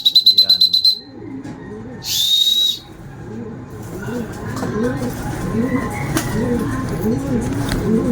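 Racing pigeons arriving home at a loft late in the day, soft repeated cooing and bird calls building up over a low outdoor rumble, with a couple of short whistles near the start.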